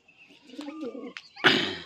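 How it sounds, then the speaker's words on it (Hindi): Pigeons at a house door give soft, low cooing calls with a few faint chirps, then a sudden burst of flapping or scuffling near the end, close by and without speech. "देखते हैं क्या करते हैं, क्या कर रहे हैं कबूतर"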